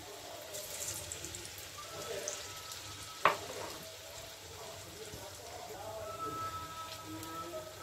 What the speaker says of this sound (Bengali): এই রসগোল্লাকে আমি এখানে দিয়ে দিচ্ছি, দিয়ে আমি ভেজে নেব